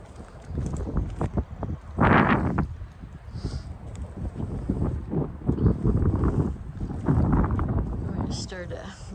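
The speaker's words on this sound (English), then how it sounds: "Kind of windy today." Gusty wind blowing outdoors at a rural homestead with garden dirt piles, a steady rushing roar with buffeting on the microphone, under someone talking on and off throughout.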